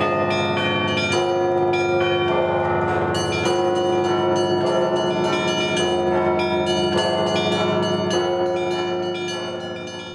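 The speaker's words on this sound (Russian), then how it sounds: "Звучали праздничные, воскресные, пасхальные звоны" Church bells peal continuously at a bell-ringing festival, several bells of different pitch struck in a rich, dense festive pattern, loud and sustained with no voices, fading slightly at the end.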